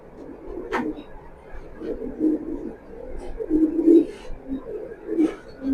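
Racing pigeons coo up close, a soft, low, throaty warble repeating in uneven bursts, with a faint voice in the background.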